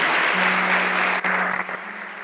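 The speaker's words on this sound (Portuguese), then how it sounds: "peço que você dê mais um aplauso, né? Bem bonito ao Senhor nesta hora" A church congregation breaks into sustained, dense applause that fills the whole stretch at steady loudness, with a brief dip midway before the clapping carries on.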